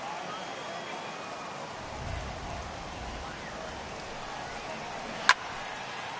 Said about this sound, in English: This isn't an easy sport to play in the rain.